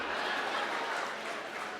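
An audience at a Hindi poetry recital claps steadily in a soft, dense wash of applause throughout, fairly faint and distant, with a few chuckles mixed in.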